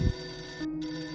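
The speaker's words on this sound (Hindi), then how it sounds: "हर डेस्क का फोन एक साथ बजने लगा।" Office desk telephones ring at once, a brief electronic ringing tone after an opening thump, steady and moderately loud, with no talk.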